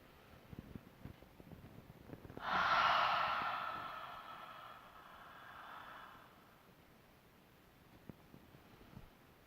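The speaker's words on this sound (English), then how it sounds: "A cleansing breath is a deep inhale into the nose and an exhale with an open mouth" A person takes a deep cleansing breath during an evening yoga wind-down, a single loud, breathy open-mouth exhale swelling up then trailing off over several seconds, close to the microphone in a quiet room.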